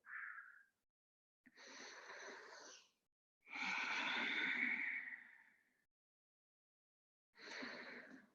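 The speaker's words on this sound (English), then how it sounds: "Breathe in and breathe out." Slow, deep breaths in and out during a yoga class, close and soft, with long airy inhales and exhales separated by pauses of silence.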